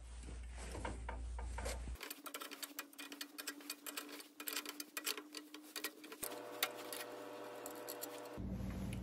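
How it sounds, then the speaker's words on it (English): A thread tap driven into metal during motorized bike fabrication, with a bolt backed out, gives a steady run of close, loud mechanical ratcheting and grinding clicks over a humming motor tone. "So I'll back the bolt all the way out and then drive the tap in there again."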